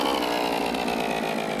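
Motorbike engine in the video game My Summer Car, a steady buzzing, raspy drone held at constant revs throughout, loud and close with no break or talk over it.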